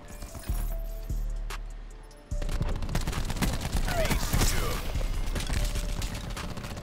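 Gunfire in the video game Black Ops 4 on the Nuketown map: a few separate shots ring out, then a sustained burst of rapid fire and loud game action fills the rest, with a voice speaking over it.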